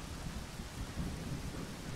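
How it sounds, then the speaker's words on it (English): Heavy, loud rain pours steadily in the survival shooter Zero Sievert during a holiday event, a dense continuous roar with low rumbles of thunder rolling underneath, no voices present. "I wish there was like a separate control for the rain."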